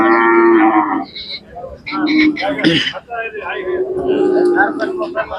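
Khillar cows moo loudly and close by at a cattle market in Sangola, Maharashtra, long drawn-out calls one after another, with a brief cough-like sound between them amid a busy livestock setting.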